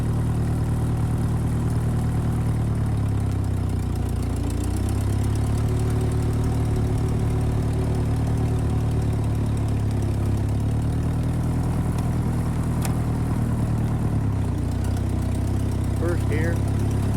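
A 1951 Ferguson TEA20 tractor engine runs at a steady low putter, close and continuous, with slight shifts in pitch as it drives along.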